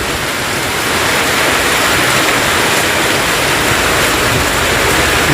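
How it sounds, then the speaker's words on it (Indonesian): A steady, heavy rain shower under dark storm clouds makes a thick, unbroken hiss that fills the scene evenly and loudly throughout, with no one speaking. "Gimana bisa pulang makan siang nih kehujanan kayak seperti ini, hujan deras guys."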